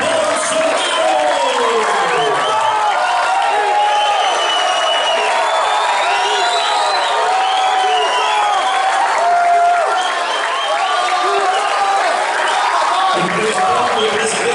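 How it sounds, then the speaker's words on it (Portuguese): Large standing crowd at a political rally applauding and cheering for federal deputy Jair Bolsonaro, a loud continuous roar of clapping with shouts and whoops and voices calling out over it. "Em pé, por favor, salva de palmas ao deputado federal Jair Bolsonaro."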